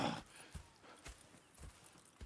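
Horse hooves clip-clop at a slow walking pace in Red Dead Redemption 2, with several soft, faint hoofbeats spaced evenly across the moment.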